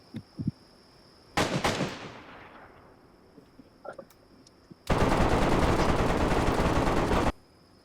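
Gunfire during a base raid in the video game DayZ: a few faint pops, then a loud burst that fades, and finally a long, sustained stream of rapid automatic fire that stops abruptly.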